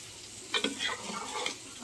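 Onion and grated ginger frying in a pan for vegetable khichdi, a close crackling sizzle with a few sharp stirring scrapes, no voices.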